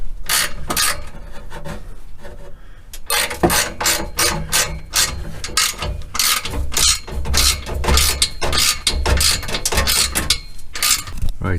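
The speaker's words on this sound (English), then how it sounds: "We're going to get them two middle sections in now and start bolting them together." A ratchet wrench works on bolts joining Milltek exhaust sections under a car, giving dense runs of rapid metallic clicks in bursts with brief pauses, close and fairly loud throughout.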